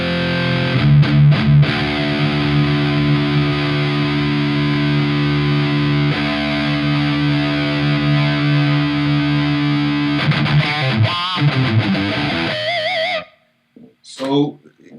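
Electric guitar through a Soldano Super Lead overdrive pedal, deep switch on bass 0: distorted chords ring out thick and saturated, sustained for several seconds, then a few choppy strums before it cuts to near silence.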